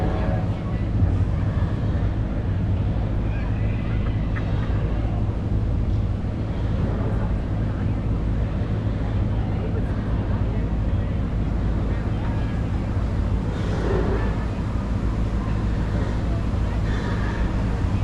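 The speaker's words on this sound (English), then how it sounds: "Here's one more look at the Liberty Belle as she goes by Big Thunder Mountain Railroad." The Liberty Belle riverboat glides past Big Thunder Mountain Railroad at Magic Kingdom, a steady low wash of engine and water rumble with wind buffeting the microphone throughout.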